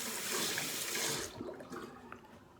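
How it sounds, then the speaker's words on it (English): A sink faucet gushing fast in a hotel-style bathroom during a travel shave, a loud steady rush of water that cuts off halfway, leaving quiet room tone with small drips and clinks. "Water comes out of that sink pretty fast."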